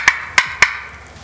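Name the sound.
turkey call cutting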